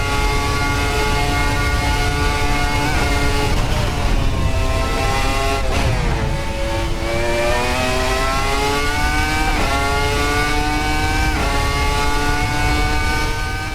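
Red Bull RB1 V10 race car in Assetto Corsa screaming at high revs, continuous loud engine note climbing through gears with sharp drops at each shift, close and unbroken with no talk.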